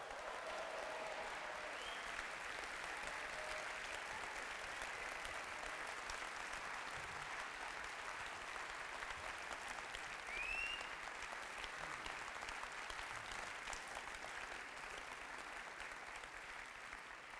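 Steady, dense applause from a theatre audience welcoming comedy performers on stage, sustained and even throughout at a moderate distance.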